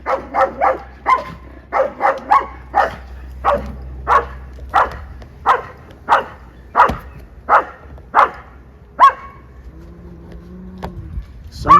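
A dog barks repeatedly in a steady series of sharp barks, moderately close, with a low engine-like rumble underneath early on.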